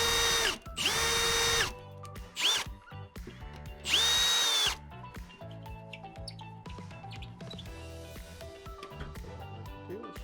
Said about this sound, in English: You'll know you missed the stud when the screw doesn't drive in all the way.